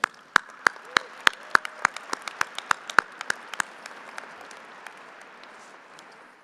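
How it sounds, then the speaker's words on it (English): Scattered individual claps ring out at a community college commencement ceremony, a few distinct near hands at first, then thinning into sparse, softer clapping under a faint room murmur. "Let's give another round of applause for Clifton."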